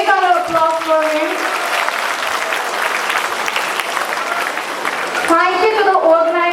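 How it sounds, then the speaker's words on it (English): Loud, dense applause from an audience at a college quiz competition at St. Xavier's, filling several seconds between stretches of a speaking voice that frames the start and end. "Can we have a great round of applause for him?"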